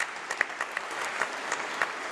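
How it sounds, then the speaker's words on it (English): An audience at a university winter congregation applauds for international students, a steady wash of clapping with scattered sharper claps throughout. "Huge round of applause for our international students."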